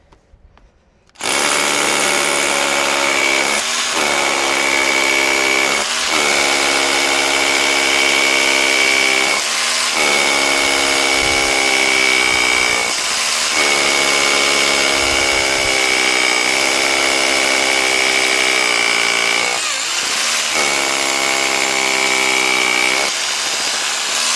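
A Makita DHR263Z cordless SDS hammer drill bores a series of holes, its loud, steady motor whine and hammering buzz running close and continuous, broken by short dips between holes.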